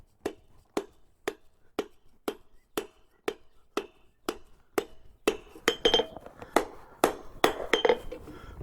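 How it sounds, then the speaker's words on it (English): A hammer strikes a railroad spike on the near side of an anvil in a blacksmith forge, with clear, evenly spaced ringing blows that grow louder and more frequent toward the end. "Now working at the near side of the anvil, half on blows,"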